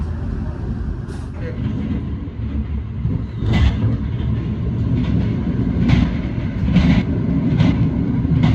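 Argo Semeru executive train pulling out of Cirebon station, a steady low rumble of the moving carriages with faint rail clatter, heard from inside the car under intermittent speech.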